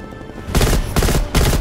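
Three loud, close bursts of rapid automatic gunfire from a Black Ops Cold War match, each lasting a fraction of a second and separated by short pauses.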